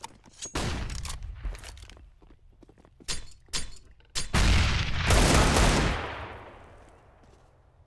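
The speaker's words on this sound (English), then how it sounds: "Throwing flashbang" A flashbang grenade goes off in CS:GO after a few sharp thuds and footsteps, its burst swelling into a loud, sustained ringing wash that slowly fades.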